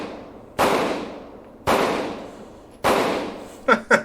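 Three sharp pistol shots ring out at spaced intervals, each with a decaying echo tail, followed by two quicker bangs at the end, close and loud.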